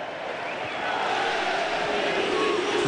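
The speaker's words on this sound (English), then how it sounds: "The boos to the Chelsea players when they're in possession" A partisan football crowd at Oakwell booing Chelsea players during the Barnsley v Chelsea FA Cup quarter-final, a sustained, loud, distant wash of jeers that swells slightly and holds throughout.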